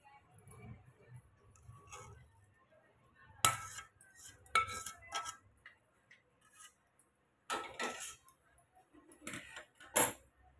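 A spoon scrapes and clinks against a steel bowl while puffed rice chivda is tossed with turmeric masala, in scattered bursts of rustling and clatter separated by near-silent pauses.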